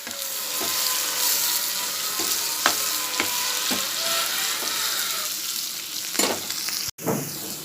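Potatoes frying in hot oil with salt sprinkled in: a steady loud sizzle with occasional scraping stir strokes and a few knocks, continuing without talk.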